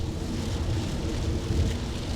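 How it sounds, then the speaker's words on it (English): Heavy rain roars steadily as a dense, broadband wash with a deep rumble underneath, loud and continuous throughout with no talking. "Damn, I did not know it was gonna rain this much."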